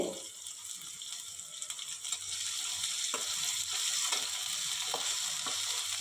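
Chopped potato sizzles steadily in hot oil, a continuous crackling hiss with a few faint scraping stirs, close and alone.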